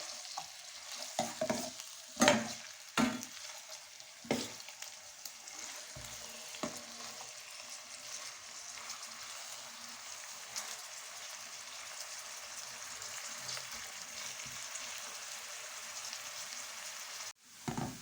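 Sliced onions frying in a pan toward light golden for a maash dal, a soft continuous sizzle broken by several loud spoon scrapes and knocks early on, then a steadier hiss until a sudden drop at the end.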